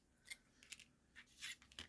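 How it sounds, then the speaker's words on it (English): A few short, crisp snips of scissors cutting paper, close and quiet, spaced irregularly with brief pauses. "I'm going to come in with a pair of scissors."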